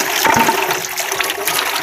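Spring water gushes and splashes close by in a loud, steady, turbulent flow, with no talking.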